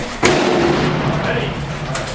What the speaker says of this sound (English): So first shot of the S20 from the Sako.